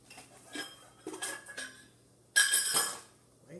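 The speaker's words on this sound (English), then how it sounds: "let me get a bowl, a mixing bowl." A mixing bowl is pulled out in a kitchen, with several close clinks and clatters of dishes in short bursts and a louder rattle near the end.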